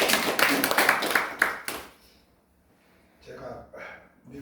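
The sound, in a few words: congregation applause welcoming four pastors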